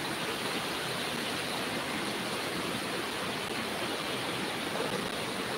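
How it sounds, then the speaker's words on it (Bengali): Heavy rain falls straight down outside a balcony, a steady broadband wash of hiss that stays even and fairly close, with no voices. "কিন্তু এখন বৃষ্টি সোজা সোজাই পড়তেছে"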